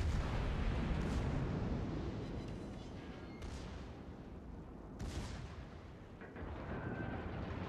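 Naval guns firing at an enemy ship in World of Warships, faint distant booms at spaced intervals over a continuous low rumble of ocean and engine noise.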